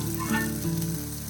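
Ginger sautés in hot oil in a pan for a raw banana recipe, giving a steady close sizzle with a faint stirring scrape and no speech.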